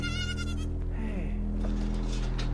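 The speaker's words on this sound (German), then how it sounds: "Hey, hier sind zwei Ziegen." Two goats bleat a few times, wavering cries close by over a steady low rumble and background hum.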